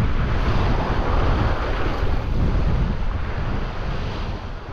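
Strong wind buffets the microphone on an island shore while ocean surf roars steadily behind it, a loud, continuous rumble with no talking, easing slightly toward the end.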